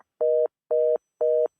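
A steady telephone tone on the line sounds in three evenly spaced short beeps, each about a quarter second, loud and clean with silence between them.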